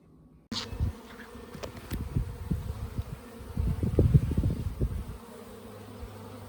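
Honey bees buzz at an open hive during a move from a top bar hive to a Langstroth hive, a dense, close, fluctuating drone that swells and fades with handling knocks.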